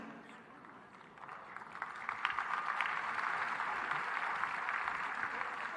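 Audience applause fills an indoor stadium during a kindness and compassion program in New Delhi, a dense, steady clapping that swells after the first second and holds continuously at even loudness.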